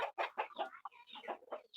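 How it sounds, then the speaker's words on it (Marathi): Free-range village hens in Konkan cluck in a quick series of short, close, fairly soft calls, closing on a higher squawk, with no other sound around them. "हे गावठी कोंबडी."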